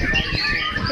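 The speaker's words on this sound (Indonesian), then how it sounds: "Kita lihat burung asli Tulungagung, Kota Marmer." A songbird at a bird singing contest in Tulungagung chirps in busy, overlapping calls amid crowd noise and background chatter.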